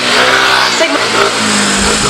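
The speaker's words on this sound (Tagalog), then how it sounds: "Bilis ng takbo ng mga motor dito mga idol." Motorcycles racing past on a street at night, engines swelling and revving as they approach and fade, loud and close, with a voice talking over the traffic noise.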